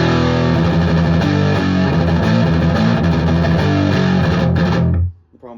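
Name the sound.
electric guitar through Mesa Boogie Synergy IICP preamp, controls at noon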